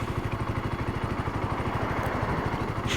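A BSA Goldstar single-cylinder motorcycle engine thumps steadily at a fast even beat, loud and close, with no voices.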